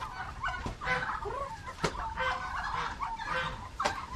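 Laying hens cluck and murmur close by while being fed, with overlapping calls and a few sharp louder notes, and no talk.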